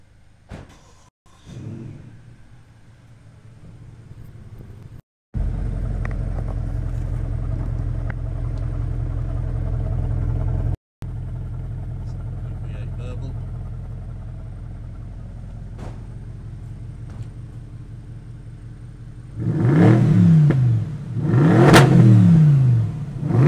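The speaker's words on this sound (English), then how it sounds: "So we'll just start the car up so you can hear it." A Bentley GTC V8 S Mulliner convertible with a 4-litre V8 starts up, settles into a steady deep idle, then blips its throttle twice in loud rising revs near the end, heard close and without talk.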